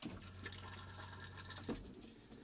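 Water pumped through a motorhome's cassette toilet to rinse it, a quiet, close trickle and splash with a faint steady pump hum underneath, recorded in a Roller Team Zefiro 675.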